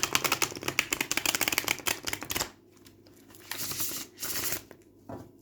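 Mythos Tarot cards being shuffled by hand, a dense run of quick riffling flutters up close, then a pause and a few shorter shuffling bursts.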